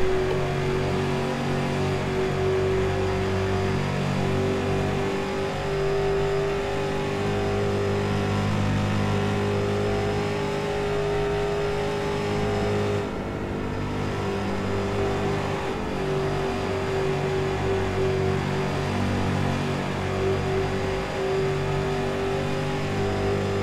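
Street stock race car engine in iRacing, an oval racing game, drones steadily for the whole stretch, loud and close, with a sustained engine tone and a brief dip in level midway; no talking.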